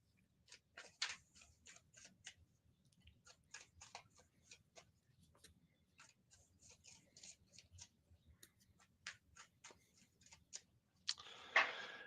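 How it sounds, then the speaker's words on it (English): Tarot cards being shuffled, a soft run of quick riffling ticks and flicks in an irregular rhythm, close and fairly quiet, with a brief louder burst of card noise at the end. "We're going to focus on shuffling these cards for a minute"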